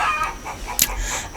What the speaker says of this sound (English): If you're wondering what all that clucking is in the background, those are my hens laying eggs.